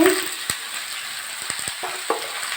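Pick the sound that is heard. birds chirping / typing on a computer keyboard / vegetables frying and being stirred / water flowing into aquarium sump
vegetables frying and being stirred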